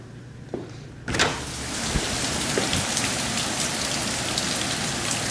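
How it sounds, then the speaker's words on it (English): A torrential downpour in Orlando, Florida begins abruptly after a quiet moment, turning into dense, loud, hissing rain drumming on surfaces without letup. "And you know what's not good for torrential downpours and giant winds?"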